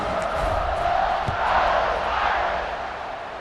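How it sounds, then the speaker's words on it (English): Stadium crowd in the video game College Football 26 gives a loud, continuous roar and murmur after a score, a broad sustained wash of many voices with no clear speech on top. "this crowd is buzzing after that last score."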